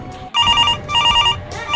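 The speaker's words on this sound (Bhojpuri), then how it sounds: "देखो तो किसका फोन है" Telephone ringing during a comedic police-detective skit, loud repeated electronic trilling bursts in three groups with short gaps, no talk over it.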